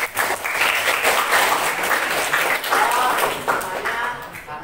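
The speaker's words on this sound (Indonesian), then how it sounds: "Kita aplaus untuk" Classroom applause from a group of students, dense steady clapping filling the whole stretch at moderate loudness, rising and falling slightly, with no clear talk over it.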